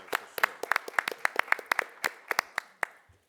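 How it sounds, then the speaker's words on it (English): A short round of applause at a Coral Springs city council meeting after a unanimous vote: about twenty sharp claps from a small group, fairly close and quickening before fading out. "a round of applause for sure"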